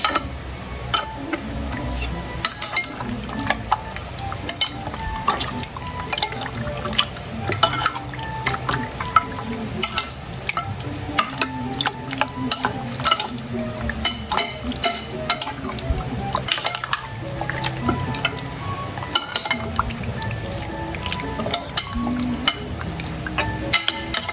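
Grilled pork belly is stirred with ketchup in a sizzling pan, with continuous frying hiss and repeated scraping and clinking of a utensil against the pan.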